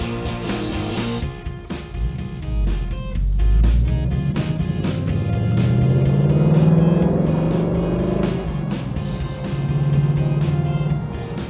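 A car engine revs in bursts, then settles into a loud, rumbling drone that swells and eases over several seconds, heard up close without speech.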